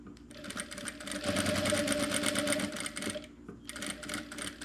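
A sewing machine runs steadily, stitching fabric for jar lid covers, with a dense mechanical whir that speeds up in the middle and then resumes after a short pause. No one speaks.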